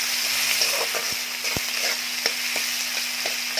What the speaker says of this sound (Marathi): आता यामध्ये बारीक चिरलेला कांदा घालायचा आहे.